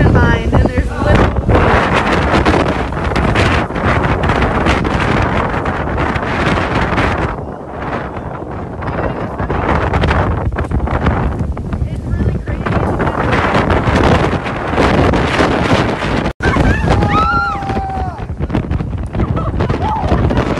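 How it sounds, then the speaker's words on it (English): Hurricane-force wind pounds the microphone beside a lake with trees battered nearby, a loud, continuous roaring buffet that barely lets up for the whole stretch, with a brief lull midway and a short voice near the end. "the wind is so strong"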